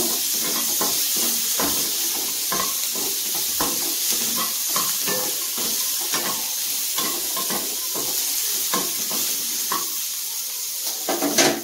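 Chopped onion, about one and a half, stirred in melted butter in a pot for a baby's chicken stew: steady sizzle with repeated scraping strokes of a spoon throughout, close and moderately loud, no talking.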